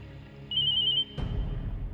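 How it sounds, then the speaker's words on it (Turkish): A mobile phone rings with a thin electronic tone for about half a second, followed by a sudden thump and muffled rustling. "Telefonun sesi buradan geliyor."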